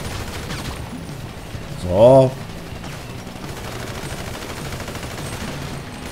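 Gunfire from a shootout in GTA 5 Online, heard as one brief loud burst of shots in a single moment against steady game background, with someone speaking briefly.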